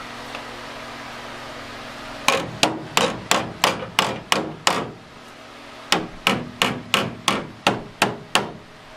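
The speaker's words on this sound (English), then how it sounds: "I think I gotta beat that down a little bit more." Hammer blows beating down metal on a rusty door post of a 1993 Foxbody Mustang GT, two bursts of about seven to eight sharp, evenly spaced metallic strikes separated by a brief pause, loud and close.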